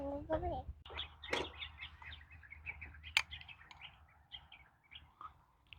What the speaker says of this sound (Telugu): ఆ పక్షుల కిలకిల రాగాలు ఎంత బాగున్నాయి